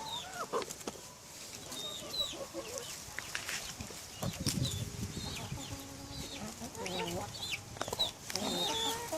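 Young Sussex chickens cluck and peep in a yard on an overcast day, with scattered short calls overlapping at moderate distance and a soft rustling background throughout.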